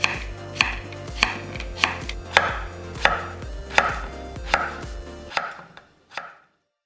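Close knife chops slicing potatoes on a cutting board, about ten evenly spaced strokes, then a short pause and a couple of final cuts. No voices.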